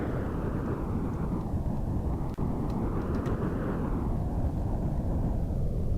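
A rocket crashes and breaks apart in Kerbal Space Program, a steady deep rumbling roar with a brief sharp crack partway through, loud and unbroken with no talk.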